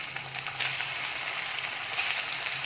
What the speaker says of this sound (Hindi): अब हम 1 मिनट के लिए इसको भूनेंगे अच्छे से।